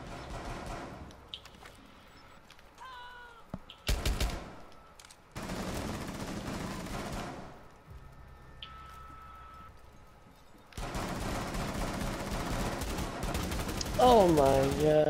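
Machine gun fire in a video game comes in loud, dense bursts of several seconds each, with short pauses between, plus a few sharper single shots and brief electronic tones.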